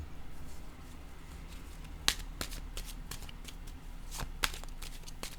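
Tarot cards are handled close up, with soft paper rustles and several crisp taps and flicks as a card is laid down on a surface, heard alone in a quiet room.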